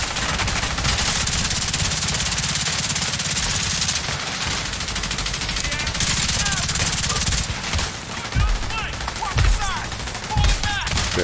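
Rapid automatic gunfire in the shooter game The Division 2, a loud sustained stream of shots with sharper bursts and impacts toward the end, voices faintly underneath.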